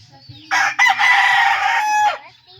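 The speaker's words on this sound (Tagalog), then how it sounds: "White rooster." A white rooster lets out one loud, close crow that holds steady for about a second and a half before trailing off, with faint background sounds around it.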